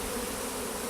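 A swarm of honeybees hums in a dense, continuous buzz, close and steady with no gaps, filling the brief moment without any voices.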